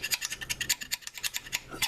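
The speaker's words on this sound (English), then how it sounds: "scraping like this, it doesn't peel off. It just you got to scrape it all the way around." Brisk back-and-forth scraping rasps against a stuck gasket on an engine part from a 1966 Unimog U-302, close and rhythmic in quick short strokes.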